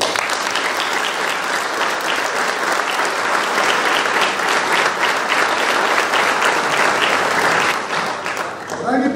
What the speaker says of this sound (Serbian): Pozivam vas da to nagradimo jednim aplauzom.